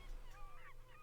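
Seabirds squawk and honk near a boat on the open sea, with several quick overlapping goose-like calls close by over a low engine or wind rumble.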